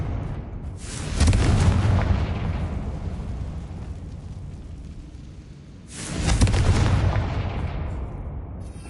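Two heavy booming explosions from a Confringo fire spell in a Harry Potter video game, each a loud broadband blast with a long rumbling tail, the first about a second in and the second near six seconds.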